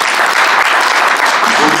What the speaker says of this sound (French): Et je vous demanderai de les applaudir,